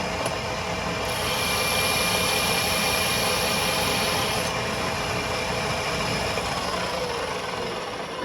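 A lathe parting tool cuts off a metal bar, run dry with no coolant, giving a steady, loud, grinding hiss that holds unbroken for the whole stretch.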